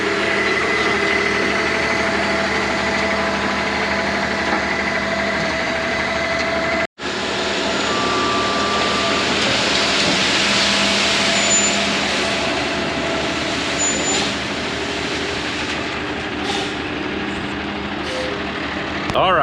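A dump truck idles and rumbles steadily at a pond construction site, a loud continuous engine drone with one abrupt brief cut before it resumes, with some faint higher mechanical tones.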